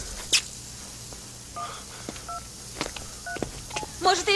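Push-button telephone keypad tones as a number is dialed to call an ambulance for a woman lying on the floor, several short beeps at irregular intervals, close and clear over a quiet indoor background.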